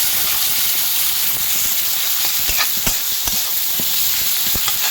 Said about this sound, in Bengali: এবার দিচ্ছি রসুন অল্প একটু মিশিয়ে নেব